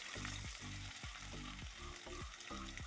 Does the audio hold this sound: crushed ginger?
yes